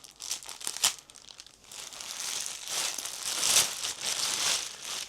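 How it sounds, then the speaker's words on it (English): Plastic wrapping crinkles and crackles in bursts close by as it is pulled off a Donner DTL100 electric guitar during unboxing, with no talking in between. "We are wrapped in plastic"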